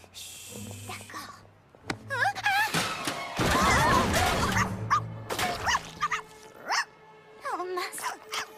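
A cartoon puppy in a Polly Pocket episode yips and barks in short bursts around a clattering thud as it knocks over a paint pot, with voices talking between and over the noise.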